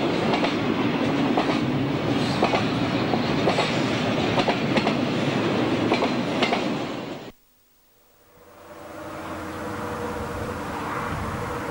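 A westbound train pulls out of Winslow, a loud near rumble with rhythmic clickety-clack of wheels on rail joints, then cuts off abruptly to a quieter distant rolling sound.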